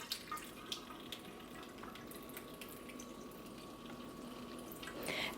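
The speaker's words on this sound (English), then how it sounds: "You rinse this out to get rid of some of the bitterness." Sprouting grains being rinsed under running water for rejuvelac, a faint steady trickle and splash from a kitchen tap with a few sharper drips, alone and close.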